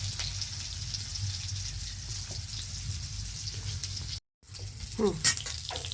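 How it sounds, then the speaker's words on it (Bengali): Cauliflower pieces fry in oil in a pan with a moderate, even sizzle. A short dropout is followed by a few sharper clatters and a rising squeak near the end. "একটু ফুলকপিটা ভেজে নিচ্ছি আমি।"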